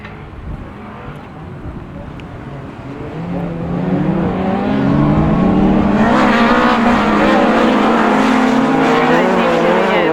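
Class 6 autograss race cars thunder away on a grass track, engines swelling from a distant drone into loud, close revving as the pack accelerates past, with a commentator talking over the noise.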